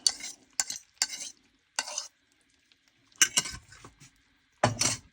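Eggs cooked in butter in a pan, heard as short bursts of scraping and stirring with sizzle between quiet gaps, utensil clinks against the pan, close and without talk.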